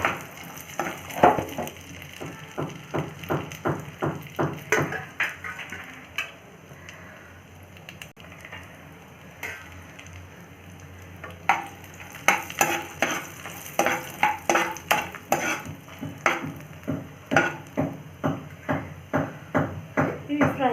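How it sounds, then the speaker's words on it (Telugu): Dry fruits sizzle and fry in hot ghee in a pan, stirred with a steady rhythmic scraping of a spoon, close and moderately loud, with brief pauses in the stirring. "సో నెయ్యి హీట్ అయిపోయింది కాబట్టి డ్రై ఫ్రూట్స్ యాడ్ చేద్దాం."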